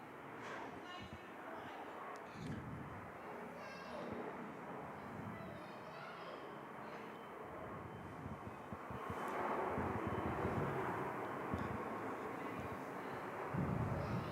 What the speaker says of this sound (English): Cathay now clear for takeoff ahead of their service over to Hong Kong today with the nifty 59er